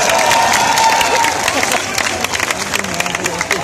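A comedy stage show audience claps and cheers in a dense, steady patter of applause, with crowd noise and some voices mixed in, loud and close throughout.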